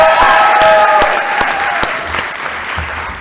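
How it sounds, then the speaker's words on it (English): A graduation-day audience at the Columbia Climate School Class Day 2023 applauds, steady dense clapping from a large crowd that holds loud throughout and eases slightly toward the end. "So, give them a big round of applause."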